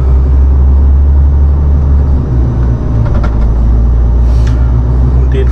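Heavy 32–33 tonne vehicle engine runs continuously while driving toward Ramstein airbase, a loud, steady low rumble heard from inside, with a few faint clicks and rattles over the drone.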